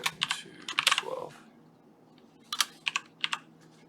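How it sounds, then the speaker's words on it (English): Loud mechanical computer keyboard being typed on, close-up, with two quick bursts of sharp clacky keystrokes separated by a short pause, alone without talk. "I have realized with this setup that this mechanical keyboard is just too loud"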